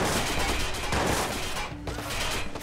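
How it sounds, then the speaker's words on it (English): Dense, sustained gunfire aimed at the player in Watch Dogs, a loud continuous roar of shots with little break, heavy and close throughout. "who's shooting at me?"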